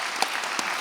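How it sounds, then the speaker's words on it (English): Brief, steady applause from a panel audience at a 2020 Santa Barbara film festival event, an even wash of clapping with a couple of slightly louder claps poking through. "so now, round of applause."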